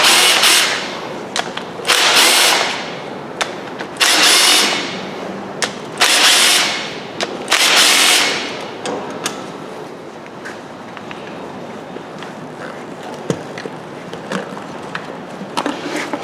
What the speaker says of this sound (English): we're going to put this 3/8 ratchet on the head bolt and see if we can pull it off with it